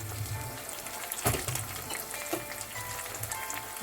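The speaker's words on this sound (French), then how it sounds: "Allez, j'ajoute ma tomate là." Tomatoes tipped into a hot pan for an egusi pistachio sauce, giving a soft steady sizzle with one brief clatter as they land, fairly quiet and without voices.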